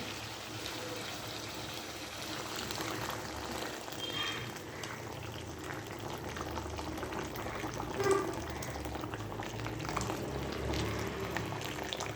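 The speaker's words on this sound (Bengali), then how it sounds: "এবার এটা টকবক করে ফুটবে" Hot water poured into a fried fish curry masala starts to bubble and simmer, a faint, steady low burble of boiling liquid heard close with no voices.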